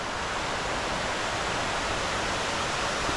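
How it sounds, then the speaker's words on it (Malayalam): Water rushes steadily down a small waterfall, a continuous close hiss and roar with no voices. "എന്തായാലും ആ ഒരു വെള്ളം അവിടെ അങ്ങനെ ഒഴുകി താഴേക്ക് പോകുന്നതാണ്"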